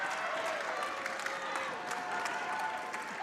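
Crowd applauding and cheering at a high school volleyball match against Medfield, a steady wash of clapping with scattered voices and whistles, with a commentator talking over it.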